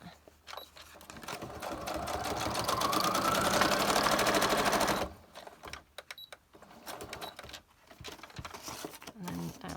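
A sewing machine runs in a steady, fast mechanical whir for several seconds, then stops, followed by quieter handling noises and faint talk.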